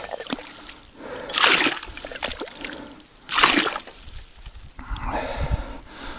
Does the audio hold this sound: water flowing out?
yes